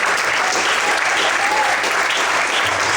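A church congregation applauding, dense steady clapping filling the room, loud and continuous with a faint voice underneath.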